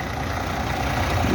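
A Freightliner truck engine idles steadily at close range, a continuous low diesel rumble with no talk over it.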